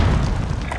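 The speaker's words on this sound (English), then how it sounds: "By a random fucking grenade, dude." A grenade blast in Call of Duty: Warzone, a short heavy low boom that fills the whole moment loudly, with a rumbling tail and no talk over it.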